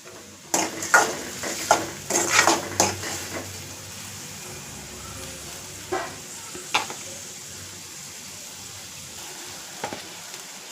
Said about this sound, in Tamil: இப்போ வெங்காயத்தை நல்லா வதக்கி விட்ருவோம்